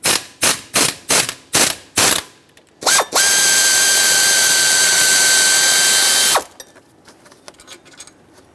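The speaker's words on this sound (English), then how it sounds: "15mm socket, remove this bolt," A hand ratchet with a 15mm socket loosens a bolt on a 2003-2009 Dodge Ram 2500 5.7L V8, giving six quick clicking strokes, then a sustained whirring spin for about three seconds and a few faint clicks after, close and loud.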